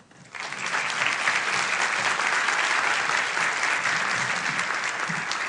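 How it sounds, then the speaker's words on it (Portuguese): Sustained applause from a seminar audience at the chemical engineering department of the Escola Politécnica, USP, beginning abruptly and holding steady and dense for several seconds with no voices over it. "Pode aplaudir."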